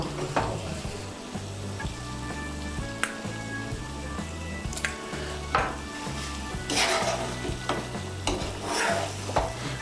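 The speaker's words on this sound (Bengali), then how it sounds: "পটলগুলোকে মশলার সঙ্গে ভালো করে মিশিয়ে নেব।" Fried pointed gourd being stirred with spices in a metal pan for a Bengali do pyaza, with repeated clanking spoon strikes and scrapes over a continuous sizzle, close and fairly loud.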